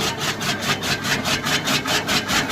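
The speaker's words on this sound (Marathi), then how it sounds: "ही महाराष्ट्र कडबाकुटी मशीनची आहे हे बघा वाळलीवरून तिच्या स्पीडला कटिंग होत आहे बघा" A Maharashtra chaff cutter machine slicing dry fodder, giving off a loud, rhythmic rasping chop that repeats about four times a second at close range, with no talk over it.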